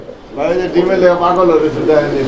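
Fancy beauty homer pigeons cooing close by, a pair of male and female birds giving wavering, throaty coos that rise and fall loudly.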